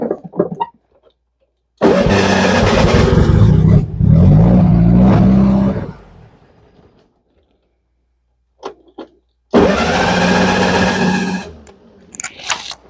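Starter of a 1961 VW Beetle barn find, unstarted for over a decade, grinds the engine over in two loud sustained bursts of about four and three seconds with a quiet gap between, and no catch.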